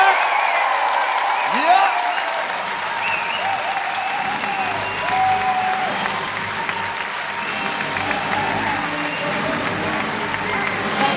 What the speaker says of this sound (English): Round of applause. Big round up, Claudia Black.